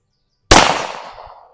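A single loud, sharp shot from a Smith & Wesson 66-1 .357 Magnum revolver fired single action at an outdoor range, with a short echoing tail after near silence.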